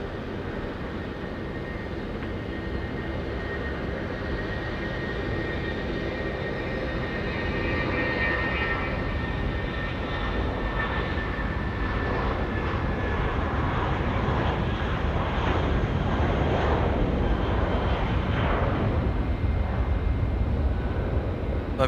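An airliner on short final at Auckland Airport fills the air with a loud, steady engine roar that swells gradually as it approaches, heard alone outdoors without talk.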